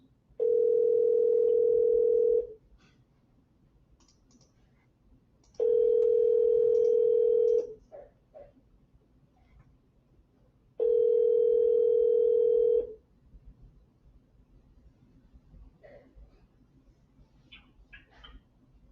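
Outgoing telephone call ringing back three times, each long steady tone lasting about two seconds and separated by a few seconds of quiet line hiss, heard clearly with no talk.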